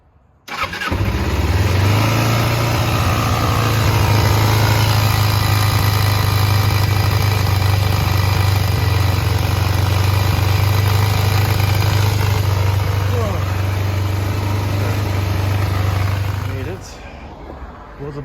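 A 2001 Kawasaki ZZR250 (EX250) motorcycle fitted with a homemade pod air filter and intake box starts on choke almost immediately, then idles loud and close with a steady, even beat before cutting off near the end.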